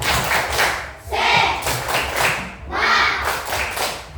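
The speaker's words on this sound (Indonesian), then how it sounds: "Tepuk semangat." Classroom of pupils doing a rhythmic 'tepuk semangat' spirit clap led by their teacher, loud near group claps in patterned bursts with chanted voices joining in between the beats.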